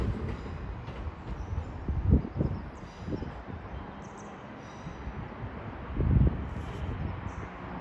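A Class 375 electric multiple unit passes through Ashford International station, a steady broad rumble of wheels and motors with louder swells of passing bogies, fairly close and without voices.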